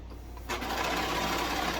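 A sewing machine stitches a straight seam down a tee shirt, its motor whirring up abruptly after a quiet start and running steadily, fairly loud and close, with faint talk underneath.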